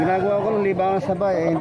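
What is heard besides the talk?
No everyday noise stands out behind the speech.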